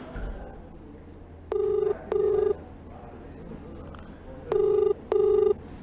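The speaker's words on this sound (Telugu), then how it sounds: "ఎస్ఐ నెంబర్ రింగ్ అవుతుంది, ఆయన ఆన్సర్ చేయడం లేదు." A phone line rings without answer, two pairs of electronic double rings with a long pause between them, clear and fairly close over a low hum.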